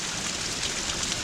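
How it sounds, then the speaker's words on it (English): Light rain falls outdoors as a steady, even hiss of fine drops, fairly loud and continuous throughout, with no voices. "it's diminishing to just a light rain"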